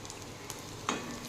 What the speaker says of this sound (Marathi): कांदा घालत आहे थोडा वेळ परतल्यानंतर यामध्ये मी हे बारीक चिरलेला लसूण घालत आहे